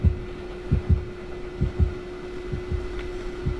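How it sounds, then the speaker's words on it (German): The heartbeat warning in Dead by Daylight throbs as a deep, regular double-thump pulse over a steady low hum, loud and close with no talk. "der Herzschlag wird schon wieder lauter"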